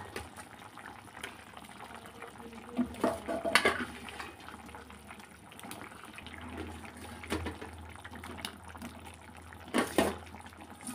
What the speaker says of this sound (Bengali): এবার আমি পনিরটা দিয়ে দেবো